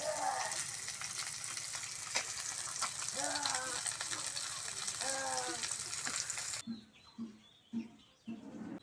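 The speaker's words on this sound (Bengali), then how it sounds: "মাছগুলো লাল লাল করে ভেজে নিচ্ছি" Small fish frying in hot oil, a dense close sizzle running steadily for several seconds, with faint voices and bird chirps underneath, then the frying cuts away to quieter chirping and soft talk.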